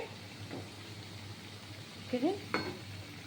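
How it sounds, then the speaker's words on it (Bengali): Egg pakoras fry in hot oil with a faint, quiet sizzle, broken by a couple of brief scraping stirs near the end. "দেখুন আমার ভাজা হয়নি আর একটু হবে একদম সুন্দর হয়ে যাবে খটখটে হয়ে যাবে"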